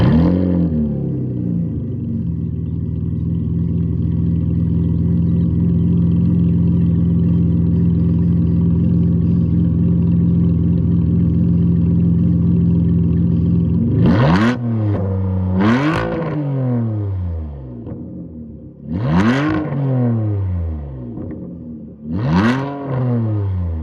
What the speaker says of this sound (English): Driving this 2005 Ferrari 612.